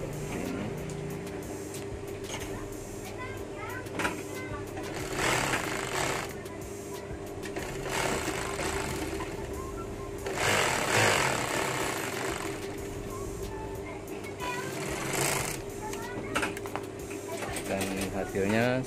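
A sewing machine runs a two-row chain stitch on a cotton T-shirt in loud, continuous buzzing stretches. A voice speaks at times alongside the machine noise.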